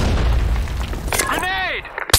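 Grenade blast in Counter-Strike on the Office map: a sharp loud boom followed by a ringing, falling whine and a second brief crack at the end.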